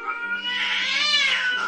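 A cat yowls in one long, loud, wavering caterwaul up close, rising and falling in pitch with no voices over it.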